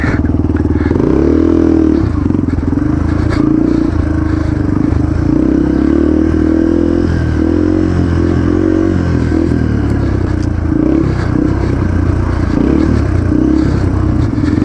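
A Yamaha TTR 230 dirt bike engine runs close and loud on a trail ride, its single-cylinder thrum rising and falling through repeated throttle blips and revs, with some clatter from the rough ground.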